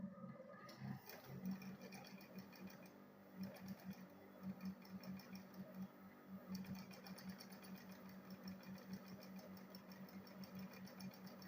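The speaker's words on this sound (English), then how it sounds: "I'll fold it first of all, sew it this way before adding it on the bag." A sewing machine stitching a strip of thick folded leather into a cord for a handbag: a rapid, steady mechanical whirring and clatter with a brief pause, close up and fairly quiet, with no talking.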